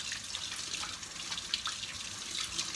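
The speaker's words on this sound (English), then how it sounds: "Wash the hands." A kitchen tap runs while hands are washed, a soft steady rush of water with faint splashes, close by and without talk.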